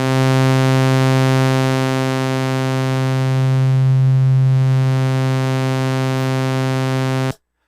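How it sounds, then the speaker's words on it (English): A Eurorack modular synthesizer holds one steady tone for about seven seconds while crossfading between a sine and a sawtooth wave, its timbre slowly shifting and brightening before it cuts off abruptly. "I can crossfade between the simple sine wave that's on one input or the sawtooth on the other."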